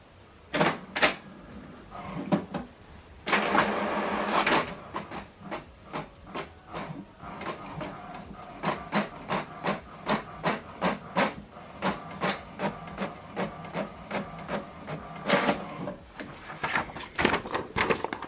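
An HP Deskjet 2700 inkjet printer runs a test page: rapid, rhythmic mechanical clacks and whirring carriage passes, with a couple of longer grinding bursts of paper feed, all close and loud.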